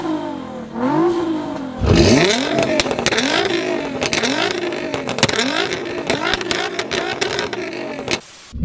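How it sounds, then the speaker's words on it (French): Heard from inside the cabin, a sports car engine takes a quick series of throttle blips, about seven sharp rising-and-falling revs in a loose rhythm over a steady idle. "À l'intérieur, les petits coups de gaz, voilà ce que ça donne."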